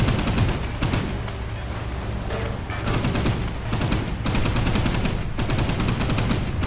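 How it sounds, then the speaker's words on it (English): Rapid naval gunfire from an enemy destroyer in the Pacific naval game Boat Crew, a dense, continuous barrage of repeated shots and booms that stays loud throughout with no talk. "That's gonna be the enemy destroyer firing at me."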